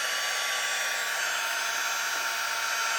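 A craft heat tool for melting embossing powder blows a steady, loud, airy roar with a faint whine, running continuously without pause.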